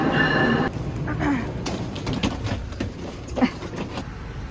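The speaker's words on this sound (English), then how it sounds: "Well, we're moving and we're on the train" Inside a moving Amtrak train, a steady low rumble of rolling carriages carries on throughout, with a brief brighter tone at the start and faint knocks and rattles, no clear speech.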